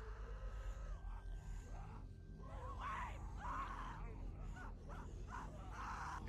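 A girl screams in the zombie video game The Walking Dead, with high, strained cries rising in several bursts over a steady low rumble of game ambience, moderately distant.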